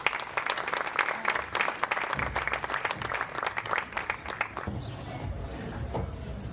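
Audience applause greets Dr. Giovanni Garofalo, an administrative councillor, at a conference in Paestum, dense steady clapping filling the room for several seconds before thinning out near the end.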